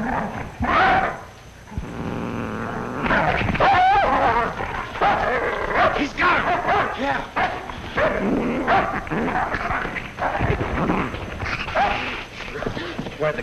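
Dog barking and whimpering in a 1940 comedy short, with yips and whines mixed among overlapping excited voices, lively and fairly close, broken by a brief quieter gap near the start.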